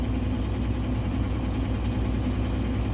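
A steady, loud truck engine drone during a regen, with heavy low rumble and constant vibration, running continuously without change throughout.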